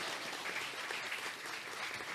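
Church congregation at a communion service applauds a visitor, continuous dense clapping filling the room at even volume without pause.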